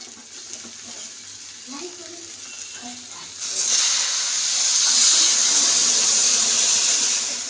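Water poured into a pan of frying vegetables for daliya sets off a sudden loud, steady sizzle and hiss after a few quiet seconds of faint pan noise and brief talk.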